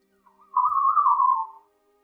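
A tabletop role-playing player whistles in imitation of a bird call: one smooth, sustained whistle of about a second that rises, then wavers gently downward, heard alone and close against a quiet background.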